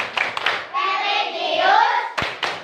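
A group claps and chants the PPK cheer in a classroom before a lesson: voices chant in unison, punctuated by sharp, rhythmic hand claps near the mic.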